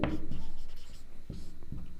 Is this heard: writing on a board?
yes